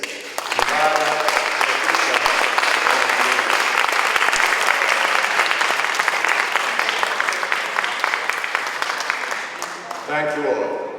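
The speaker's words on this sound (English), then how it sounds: "a round of applause for all three readers, Mbala," Sustained applause from a library audience at a poetry reading, a dense burst of clapping that holds steady for several seconds before tapering off as a voice begins.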